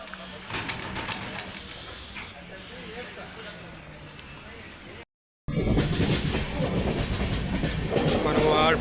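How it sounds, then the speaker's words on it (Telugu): Secunderabad–Sirpur Kagaznagar superfast express train rolling along the tracks, a steady rumble with rhythmic clickety-clack of wheels over rail joints, briefly cutting out midway before returning louder, with a voice speaking over it. "ట్రైన్ మూవ్ అవుతుంది"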